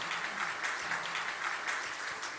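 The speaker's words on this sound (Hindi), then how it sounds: "ताली बजाओ तो प्रेम से बजाओ" Steady clapping from a lecture audience at a Hindi religious discourse, dense and continuous throughout, with no talk over it.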